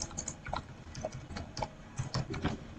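Typing on a computer keyboard while writing a CSS paragraph, a run of light, uneven key clicks close by over faint background hiss, with no talking.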